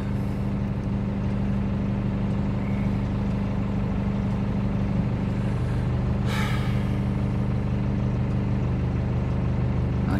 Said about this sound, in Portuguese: Nós estamos de caminhão, né?